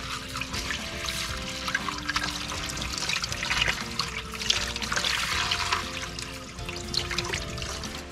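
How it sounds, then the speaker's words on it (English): Water from a tap runs over welder contact tips as they are rinsed, a steady close splashing and trickling that keeps going for the whole stretch with no talk. "Now we give these a real good rinse."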